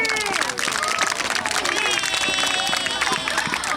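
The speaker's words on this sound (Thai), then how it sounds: "ขอเสียงปรบมือให้กับนิ่มเรสซิ่ง" A crowd at a children's day youth football event applauds the sponsor Nim Racing, with dense, continuous clapping and some cheering under an amplified voice speaking over a PA.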